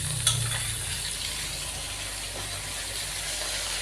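Finely chopped tomatoes dropped into a pan of frying onions for chicken biryani, a soft continuous sizzle with a brief clatter near the start, steady and fairly quiet throughout.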